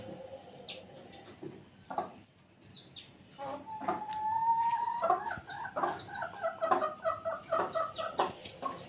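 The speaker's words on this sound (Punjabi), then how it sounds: "ਚਲੀ ਮੁਰਗੀ ਨੂੰ ਬਾਹਰ ਕੱਢਤਾ" Hens cluck repeatedly in short bursts, with a longer drawn-out squawk partway through and steady clucking continuing close by, no talking.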